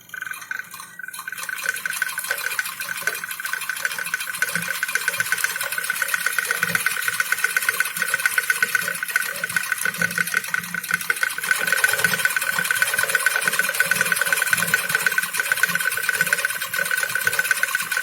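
Sewing machine running zigzag stitches to make scalloped petal shapes, a continuous fast mechanical whirr with rapid regular needle clatter, close and steady for the whole stretch with no talking.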